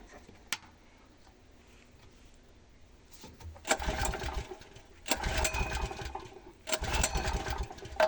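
A small engine is started with the choke pulled. A faint click comes first, then it catches in three loud, rough bursts separated by brief drops.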